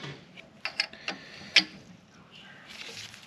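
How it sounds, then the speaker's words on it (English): A wrench works loose studs on the oil filter housing of a 1939 Caterpillar D4 (D4400) engine using a double nut, with a few sparse ratcheting clicks and metallic ticks over a quiet background. "I'm going to just try the double nut trick to get them out."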